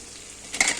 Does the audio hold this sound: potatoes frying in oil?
yes